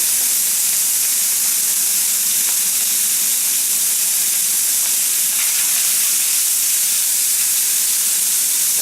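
Food stir-fries in a hot cast iron wok with smoking olive oil, sending up a loud, continuous hiss and sizzle that holds steady throughout, with no voices.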